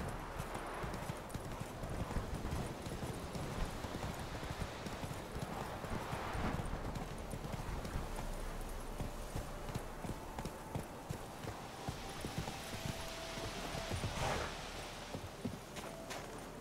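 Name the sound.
horse Roach galloping in video game The Witcher 3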